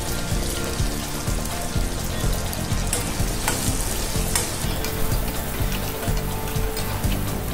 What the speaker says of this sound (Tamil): இதோட மிளகை சேர்த்து நல்லா வதக்கிடலாம்.